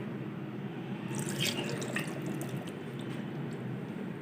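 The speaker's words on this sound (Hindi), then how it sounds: "आधा कप पानी डालेंगे" Half a cup of water poured into instant rava appam batter with salt, sugar and yogurt, a short splashing pour over a steady background hum, alone without talk.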